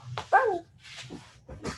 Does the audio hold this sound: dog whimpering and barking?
yes